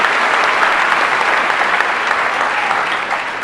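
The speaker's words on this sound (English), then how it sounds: "Let's give them a round of applause." A school moving-up assembly audience applauds steadily, a dense wash of many hands clapping that stays loud and even throughout, with a faint crowd murmur beneath.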